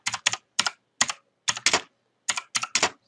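Text typed on a computer keyboard, heard as close, crisp keystrokes in short clusters of two or three taps separated by brief pauses, with no talking.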